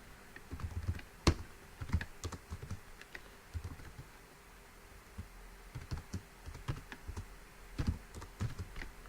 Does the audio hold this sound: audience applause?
no